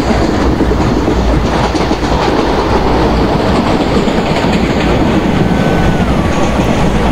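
Steady, loud rail rumble from a Bhusaval–Katni passenger train in the Open Rails simulator, with rhythmic wheel clatter and a faint rising-then-falling tone near the end, no one talking.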